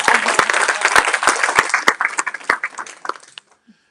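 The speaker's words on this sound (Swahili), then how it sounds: "Piga makofi anayeeleweka." Audience applause at a Swahili church sermon, a dense wash of many hands clapping with a few sharp louder claps, steady for about three seconds before quickly tapering off to silence.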